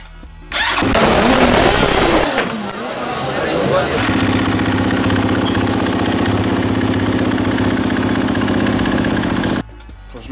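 A 2015 KTM 250 SX-F dirt bike engine, which had been misfiring and losing power, sputters to life, then settles into a steady, loud buzzing idle before cutting off near the end.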